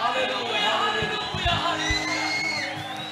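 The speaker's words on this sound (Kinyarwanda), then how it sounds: "twongere dukomere Imana amashyi" A church congregation applauds and cheers for God, with scattered claps and whoops from a crowd under sustained music and voices.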